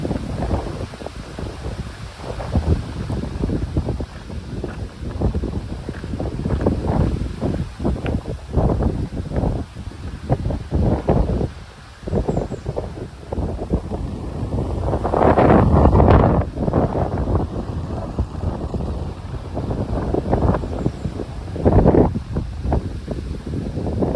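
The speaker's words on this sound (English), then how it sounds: "And it's windy." Strong wind buffets the microphone at Thunder Ridge Lookout on the Appalachian Trail, a continuous roaring rush with heavier gusts that swell and fade.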